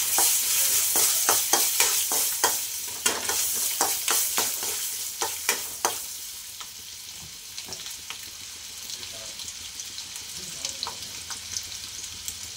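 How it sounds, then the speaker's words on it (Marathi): Peanuts, mustard seeds and garlic fry in hot oil as the tempering for a Khandeshi-style eggplant bharit. Sharp crackling pops burst in quick succession for the first six seconds, then ease into a quieter, steady sizzle with occasional pops, with no voices. "तेल तापलेले आहे चांगले, त्यात मोहरी टाकते, लसूण टाकून घेते"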